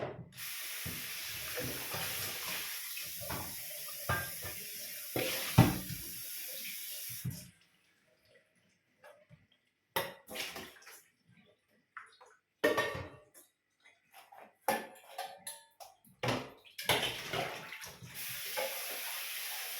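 Warm water running from a household tap into a sink, a steady splashing stream that stops partway and then returns in short bursts with small knocks and clatters.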